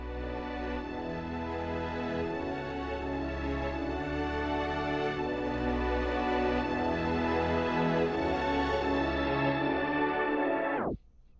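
An EDM remix of a throwback dance track, with orchestral instruments carrying the chord notes, plays loud and dense for about eleven seconds before cutting off abruptly.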